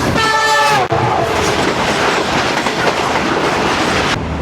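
Trains pass on both sides of a track near a signal, a loud horn blaring at first and then a steady roar of rolling wagons with rattling clatter close by.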